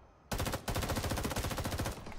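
Rapid automatic weapon fire in the video game Rising Storm 2: Vietnam, a fast loud burst of rounds at roughly 850 shots per minute, briefly broken and then resuming in a sustained stream.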